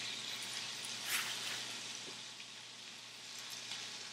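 Meat hitting a hot skillet greased with grass-fed butter gives a steady, close sizzle that holds evenly throughout, with a brief louder crackle near the start.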